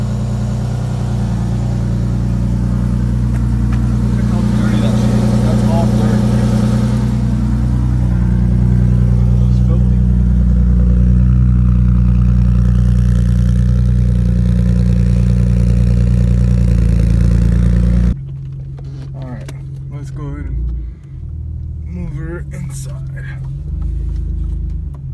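A pickup truck engine runs loudly and steadily for about eighteen seconds with some revving and clatter, then drops to a quieter, closer idle with intermittent knocks; talk occurs over it.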